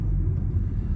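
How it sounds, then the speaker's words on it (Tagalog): Low street-traffic rumble from many vehicles rolls on steadily, a dense continuous drone with no distinct single pass and no voices. "dito sa kabila, ang daming sasakyan na"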